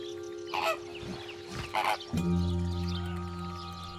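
Flamingos call in the Camargue wetlands, a few loud honking, goose-like bursts standing out over a steady background hum.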